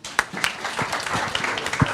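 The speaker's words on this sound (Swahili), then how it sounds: "Tumpigie makofi." Applause from an audience at a Kenyan youth investment talk, a short burst of scattered hand claps with a few sharper, louder claps standing out from the steady patter.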